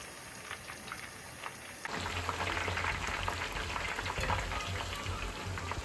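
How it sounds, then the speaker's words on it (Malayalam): Tapioca chips frying in hot oil give a dense, close bubbling hiss that swells suddenly partway through into a louder, rain-like crackle with a low rumble beneath, no voices. "ചിപ്സ് അതിൻ്റെ പരുവാകുമ്പോൾ ഇങ്ങനെയുള്ള കിലുകില സൗണ്ട് കേൾക്കും"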